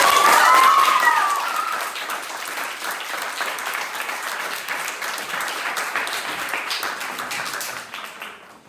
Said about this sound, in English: Can you give Sebby just an extra loud round of applause?